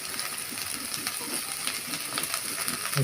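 Ginger paste fries in a pan with a soft, steady sizzle and some light scraping or stirring clicks, moderately quiet, with no speech.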